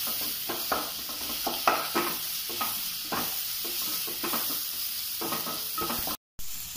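Tomatoes are stirred in hot oil in a pan for Palakkad beef biryani, with a steady loud sizzle broken by repeated scraping stirs and a brief dropout near the end.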